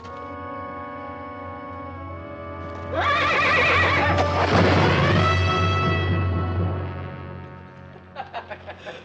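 A horse lets out a loud, drawn-out whinny amid a swell of music, then a brief run of hoofbeats clops near the end.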